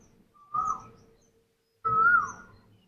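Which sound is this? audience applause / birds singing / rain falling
birds singing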